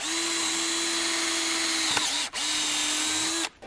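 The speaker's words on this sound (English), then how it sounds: "I just want to simply drill a hole into the middle of my mount board here" A power drill whirs at a steady high pitch while boring a hole into a wooden mount board for a shed solar setup, briefly stopping and restarting before cutting off, close and loud with no talking.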